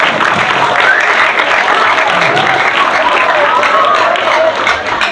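Dense audience applause fills a hall at an evening youth gathering in Indonesia, a steady broadband wash of many hands clapping that holds loud and unbroken for about five seconds.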